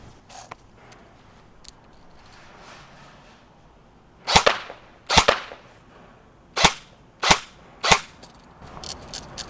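A Helios Knight's Armament SR-16E Mod2 airsoft rifle fires five sharp, snappy shots, heard close at the receiver. The shots come at irregular intervals amid quiet mechanical clicks and creaks.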